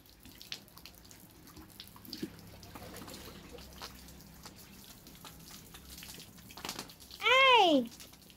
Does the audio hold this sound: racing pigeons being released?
no